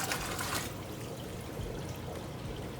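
Water poured into a shrimp tank during a 25% water change on a 21-gallon cube tank, a steady continuous splashing stream, brighter and stronger at first, then a softer ongoing trickle.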